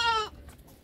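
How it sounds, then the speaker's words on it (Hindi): A large female goat, one of several at a livestock sale, gives a short, loud, wavering bleat nearby that cuts off after a moment, leaving faint background noise. "ये देखिए बड़ी बकरी है,"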